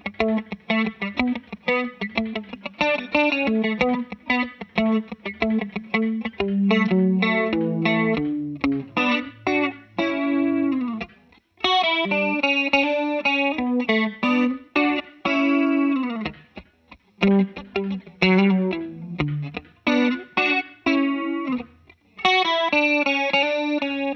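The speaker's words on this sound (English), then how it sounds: "pairing it with a little bit of chorus to add a little bit more ambience for that clean tone" Electric guitar played through chorus, compression and reverb pedals in an 1980s rack-style clean tone, with chords and melodic lines ringing out shimmering and sustained, alone without talk.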